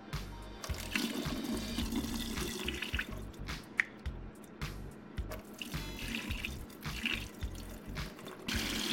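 Tap water runs into a bowl as uncooked grits are rinsed clean of black specks, with a steady splash and gurgle, brief swishes and a few drips.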